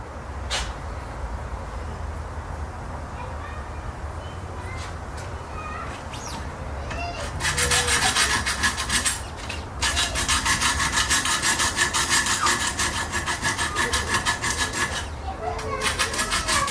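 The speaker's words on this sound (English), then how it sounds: "So I'm trying to get it as sharp as I can with the rough stones" Knife being sharpened on a Wicked Edge Pro guided system with rough stones: soft, sparse scraping at first, then from about halfway steady, loud rasping strokes continue close by with one short pause, no voices.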